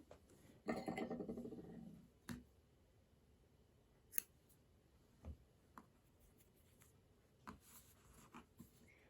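Scissors snip through crochet yarn in one brief, soft cutting burst near the start, followed by a few faint scattered clicks and handling noises in an otherwise quiet room.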